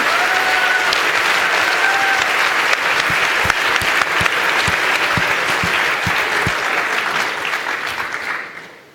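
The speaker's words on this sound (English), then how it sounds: "Thank you very much for your claps." Sustained audience applause at a university award ceremony, even and full for several seconds with a few sharper claps standing out, then fading away at the end.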